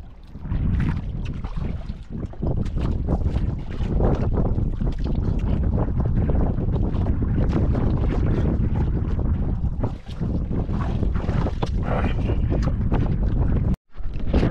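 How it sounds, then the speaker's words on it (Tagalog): Strong Amihan wind buffets a boat at sea, a loud continuous roar of gusts and wind noise on the microphone with water sloshing beneath, easing only briefly near the end. "Umihip na nga yan mga katangay."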